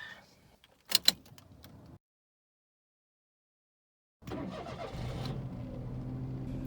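A small car starts up: a couple of sharp door or key clicks, then silence, then the engine cranks and settles into a steady low idle close by.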